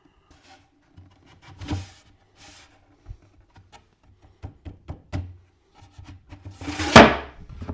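A plywood drawer back panel is fitted into a glued groove in a woodworking shop, making a series of light wooden taps, knocks and scrapes that ends in a louder thunk as it drops into place.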